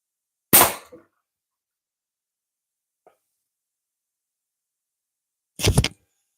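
Slingshot shots striking a can: two sharp, loud impacts about five seconds apart with near silence between, plus one tiny faint tick in the middle.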